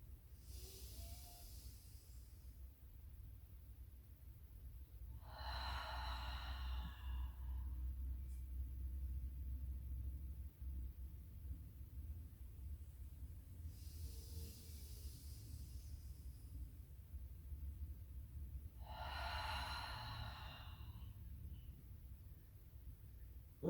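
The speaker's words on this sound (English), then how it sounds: "let's inhale together." A person drawing slow, deep breaths during a somatic breathing exercise for anxiety, with two long airy inhales or exhales separated by quiet pauses over a low steady hum.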